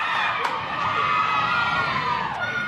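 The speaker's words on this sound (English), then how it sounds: "Crowd right behind Samoa." Spectators at a military rugby sevens pool match cheer and shout in a continuous, loud wash of crowd noise, with a few higher whoops rising above it.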